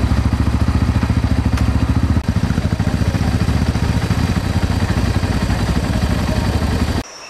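Motorcycle engine running on a rural trip in Gabon near a river, a loud close, steady throbbing idle with rapid regular pulses and some mechanical clatter, cutting off abruptly just before the end.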